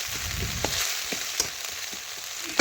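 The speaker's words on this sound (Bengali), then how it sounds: "আদা জিরে রসুন দেখুন ভালোভাবে পেঁয়াজের সাথে মিশিয়ে আমি একটু কষে নিলাম" Onion with ginger, cumin and garlic sautéing in a pan over an earthen clay stove, a continuous close sizzle broken by scattered crackles and spatula scrapes.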